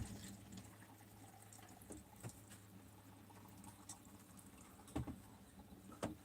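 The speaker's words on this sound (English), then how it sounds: "Hang on, I'm getting water for the dog." Water is poured into a dog's bowl at home, making a faint, soft trickle and splash with a few small clinks over steady low background noise.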